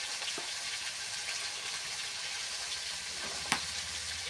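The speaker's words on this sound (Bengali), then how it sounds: "মাছ ভাজা হচ্ছে এই যে" Fish frying in a pan, a steady sizzling hiss that carries on throughout, with one sharp pop near the end and no talking.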